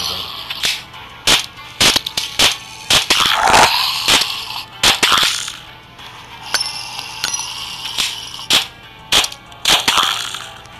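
Gunfire in the video game The Walking Zombie, a string of sharp, loud, clipped shots arriving singly and in quick clusters, interleaved with clanks and metallic game effects over a low steady hum.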